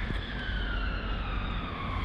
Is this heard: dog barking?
no